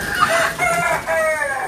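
A rooster crows once, loud and near, its long harmonic call rising and holding across the clip in a poultry yard with other roosters kept nearby; no one speaks.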